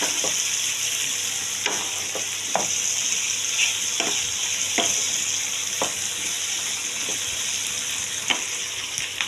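Onions frying in a pan for a light mutton curry, a steady close sizzle with scattered stirring scrapes and clicks of a spatula, no voices.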